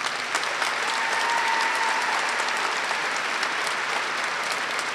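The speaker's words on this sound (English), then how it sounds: "another round of applause" A large audience at a high school graduation ceremony claps in a sustained, even round of applause with no voices over it.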